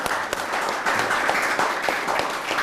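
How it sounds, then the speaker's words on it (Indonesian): An audience at an indoor gathering claps steadily for a couple of seconds: dense, even applause with a few sharper individual claps standing out. "Ini untuk beliau, tepuk tangan."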